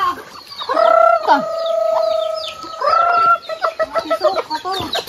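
Chickens cluck and cackle close by, with two sustained crowing-like calls rising over a busy background of chirps and clucks.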